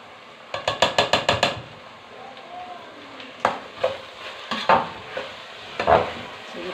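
A spoon clinks and scrapes against a pot while buffalo ghee sizzles faintly, a quick run of metallic taps followed by scattered stirring knocks, with no talking.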